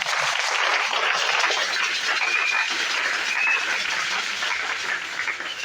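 A church congregation claps in praise during a Sunday worship service, a dense, steady wash of applause that fills the space without letup, with a couple of faint whistles or cries riding on top.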